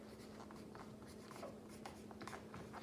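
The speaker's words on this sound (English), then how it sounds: "So we can write the word height right here." Marker or chalk strokes writing a word on a classroom board during a math lesson, a close series of short scratchy strokes with brief pauses and no speech.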